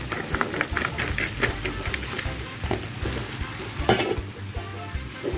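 Pumpkin and carrot pieces sizzle and fry in a pan while being stirred, with steady crackling and repeated scraping strokes close up throughout, a brief louder clatter near the end.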